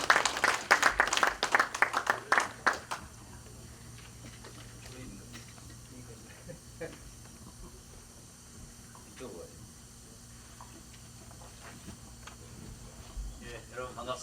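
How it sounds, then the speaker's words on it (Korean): Audience clapping to welcome the LA Consul General to a gathering, a burst of fairly close applause at the start that fades within a few seconds, followed by quiet room tone and faint movement. "박수로 환영하시면 고맙겠습니다."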